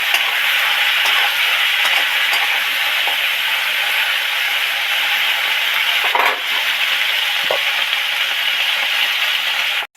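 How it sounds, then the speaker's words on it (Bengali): Okra frying in hot oil in a home kitchen, a steady loud hiss and sizzle running throughout, with a brief clatter of stirring near the middle. "ওই তেলের মধ্যে এবার ঢ্যাঁড়সগুলো উঠিয়ে দেব নুনটা দিলাম দিলে আর যে ঢ্যাঁড়সের হরহরণের ভাব চলেই যাবে আর ভালোভাবে ভাজা হবে"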